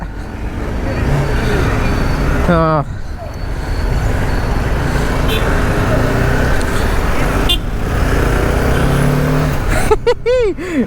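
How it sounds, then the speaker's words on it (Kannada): Busy road traffic in Mangalore: a constant roar of engines and passing vehicles close by, with horn toots near the start and again at the end, under occasional brief talk. "ಮಂಗಳೂರು ಟ್ರಾಫಿಕ್ ಏನು ಕಮ್ಮಿ ಇಲ್ಲ."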